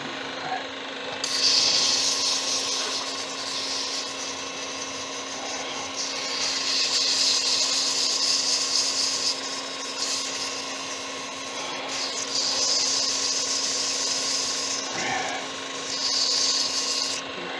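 Bethlehem olive wood pen blank being sanded on a spinning lathe at 150 grit, a steady motor whine with a hissing rub that swells in repeated passes, close and loud.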